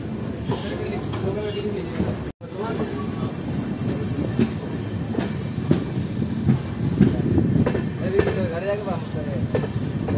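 The Kaziranga Express rumbles and clatters into Barddhaman Junction, with loud continuous rail noise, rhythmic wheel clicks and a brief dropout early on, while someone speaks over it.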